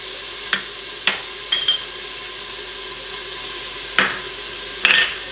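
Onions frying in a pot for lasagna soup give a steady low sizzle, broken by several brief clinks of a utensil stirring against the pot.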